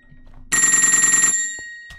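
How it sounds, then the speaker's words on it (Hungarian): A phone rings inside a Minecraft game, a loud electronic trilling ring that lasts just under a second and then fades, with a faint click afterward. "Valakinek csörög a telefonja."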